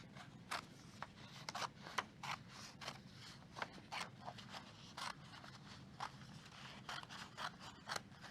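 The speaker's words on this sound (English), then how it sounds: "So we're just going to start at the bottom of our green paper and cut as straight as we can." Scissors snip through green paper cutting straight strips for flower stems, a steady series of sharp close crisp clips with soft paper rustle between them, no talking.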